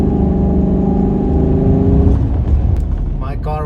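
A car fitted with a newly installed cold air intake drives by, its engine rumbling loudly and steadily before the tone shifts and fades, with brief noise near the end.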